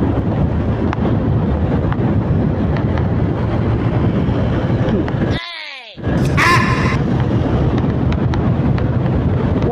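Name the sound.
strong wind while riding on the road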